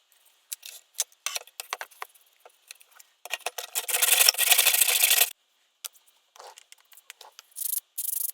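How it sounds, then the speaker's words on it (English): Sandpaper rubbing along the rough edges of a thick wooden piece for a small handmade jewellery box roof: scattered short rasping strokes, then a steadier, louder stretch of scraping, close and alone. "So just sand off any rough edges"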